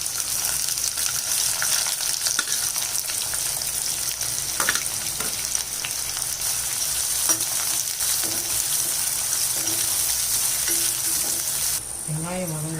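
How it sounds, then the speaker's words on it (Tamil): Chopped onion fries in a mustard seed tempering for a ridge gourd and drumstick curry, a dense, steady sizzle close by with occasional stirring scrapes and spatters, then a brief clatter near the end. "வெங்காயம் வதங்கட்டும்."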